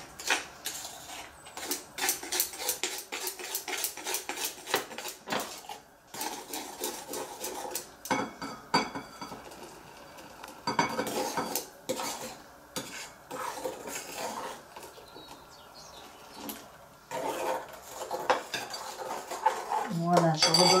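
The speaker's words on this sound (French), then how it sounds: "mon lait, donc qui a bouilli dessus, et je mélange tout ça." A utensil stirs a boiled milk mixture in a saucepan, clinking and scraping against the metal in a steady, busy rhythm for a sustained stretch, close and moderately loud, with no talk.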